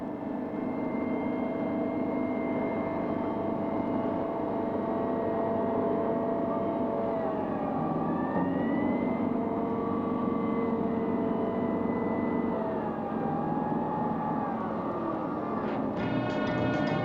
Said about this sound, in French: L'AMX-10P est un véhicule amphibie, doué d'une grande maniabilité sur l'eau.